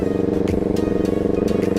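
Kawasaki Ninja 250R motorcycle engine while riding in the afternoon, a steady, close, pulsing drone at constant revs with rapid rhythmic throbbing and no break.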